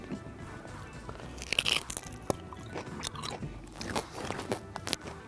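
Crispy roasted whole-pig skin from a street-style rotisserie is crunched close up, with a run of sharp bites and crackling chews, loudest in a burst near the start, then steady munching with no talk.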